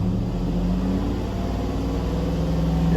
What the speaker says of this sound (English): I'm going to accelerate it a little to warm up the catalytic converters.